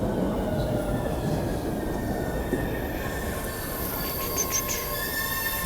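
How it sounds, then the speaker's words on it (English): A subway train rolls in with steady, loud rumble and high metallic wheel squeal across the whole stretch, no voices heard. "Here comes the train."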